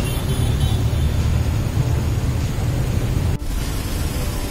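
Street traffic on C.M. Recto Avenue in downtown Cagayan de Oro makes a continuous broadband roar of passing vehicles. It stays fairly loud and steady, with a brief dip near the end and no voices.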